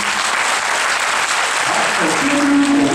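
Warm applause from a prison audience at a charity volunteer event in Hsinchu, steady dense clapping throughout, loud and close, swelling slightly near the end.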